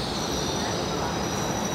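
A Frecciarossa high-speed train sits at an Italian station, giving off a constant loud rumble and hiss with a thin high squeal running throughout and no clear breaks.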